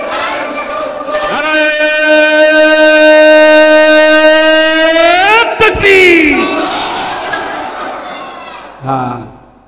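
A crowd at a Bengali Islamic religious gathering bellows the takbir response in unison, a long, loud, sustained chant of many voices rising and then breaking off, with a brief shout trailing near the end.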